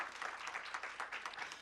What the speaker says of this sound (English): So I'd like everyone to give a clap for Kim.